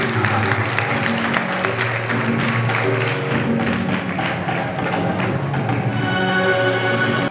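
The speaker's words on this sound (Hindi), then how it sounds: "जोरदार तालियों से उनका स्वागत कीजिए।" An audience at a convocation ceremony bursts into loud, sustained applause that fills the hall for several seconds, with tonal background sound running beneath the dense clapping.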